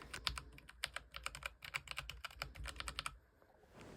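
Rapid typing on a Logitech G413 TKL SE mechanical keyboard with brown switches: a dense run of crisp, close keystrokes that stops abruptly near the end, with no talk.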